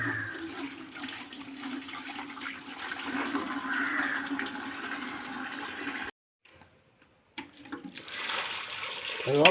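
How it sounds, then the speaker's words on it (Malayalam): Water poured onto the soil of a small, freshly fertilised plant, a steady rushing splash that cuts out briefly and then resumes. "മതി, ഇച്ചിരി വെള്ളം കൂടെ പിടിച്ചൊഴിച്ചേരെ"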